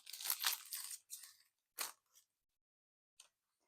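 Glass screen protector packaging for a phone being opened by hand, a few crinkly tearing and crunching bursts in the first second and a half, then short isolated crackles with quiet gaps between them, close up and with no talking.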